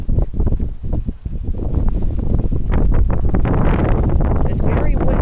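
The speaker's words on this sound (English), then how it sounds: "It's very windy." Strong wind gusting outdoors ahead of a hurricane, a loud continuous rushing and buffeting roar that swells and stays heavy, with someone speaking partly under it.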